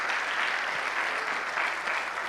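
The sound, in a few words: congregation applause in church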